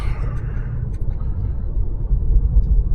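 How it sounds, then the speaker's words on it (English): Stock-exhaust 2020 BMW M550i xDrive engine rumbling steadily from inside the car on a late-night drive, a deep low drone that swells slightly louder toward the end, with no talking. "Yeah, you can definitely hear that engine. This is just a stock exhaust."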